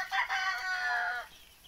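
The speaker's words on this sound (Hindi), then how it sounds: "मुर्गियाँ कैसे उड़ रही हैं सब।" A free-range desi chicken on a farm gives a short, moderately faint crowing or drawn-out clucking call lasting about a second, with no voices over it.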